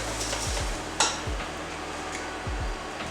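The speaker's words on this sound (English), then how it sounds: "When it goes in, you can hear that little sizzle, and that's what we want." A low steady sizzle of rice grains toasting in a pan for risotto runs throughout, broken by a few soft scraping stirs and one sharp clink of a utensil against the pan.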